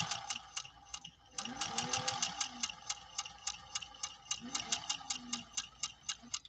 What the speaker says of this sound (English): we are sewing cotton using a leather needle